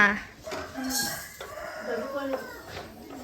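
Chickens cluck and call nearby in short bursts, with a rooster-like crowing note, amid light background noise.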